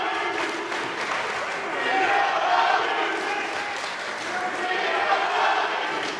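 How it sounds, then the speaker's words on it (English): A large wrestling arena crowd at a Thanksgiving war games show roars and jeers in a continuous dense wash of voices, loud and sustained, swelling slightly midway with no clear speech on top. "You hear the crowd, we don't like you."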